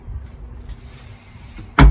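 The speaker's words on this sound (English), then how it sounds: "We have the soft close doors here, magnetic latches again." A soft-close cabinet door with a magnetic latch in a converted van shuts with a single soft thud at the very end, after quiet handling noise.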